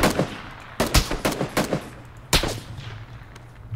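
Gunfire in the battle royale game PlayerUnknown's Battlegrounds among ruined houses: several loud, sharp shots, some in quick bursts and others isolated, each with a short echoing tail.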